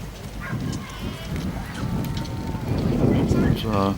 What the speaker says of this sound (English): The rain's kind of horizontal at the moment.